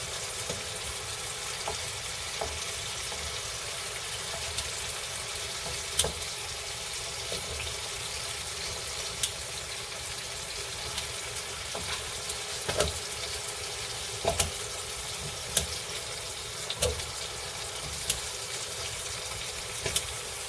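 Tomatoes and eggplant for a keto Filipino poqui poqui dish cook in a pan with a steady, soft sizzle, punctuated by occasional sharp pops and crackles.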